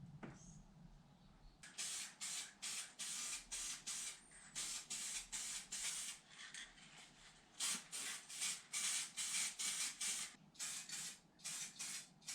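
Top coat paint is sprayed onto a 1969 Barracuda in short rhythmic hissing bursts, each pass a loud close blast of spray separated by brief pauses.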